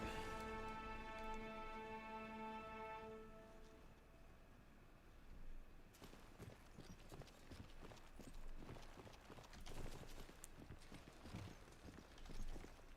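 Horse hooves clip-clop steadily in Mount & Blade: Warband, a battle game, the rapid irregular beats starting a few seconds in after a fading musical tone and continuing at moderate loudness to the end.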